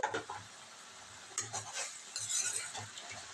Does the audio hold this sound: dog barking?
no